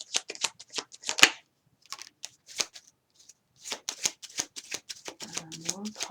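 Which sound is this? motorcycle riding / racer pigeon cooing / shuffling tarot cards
shuffling tarot cards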